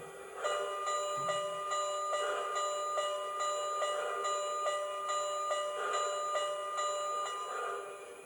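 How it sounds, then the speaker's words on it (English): The bell of an MTH HO-scale Southern Pacific GS-4 Daylight 4449 model steam locomotive, sampled from the real SP 4449, clangs steadily in an even rhythm, bright and metallic, over a faint mechanical hum. "Function 1 is the bell, which is actually taken from the real SP4449."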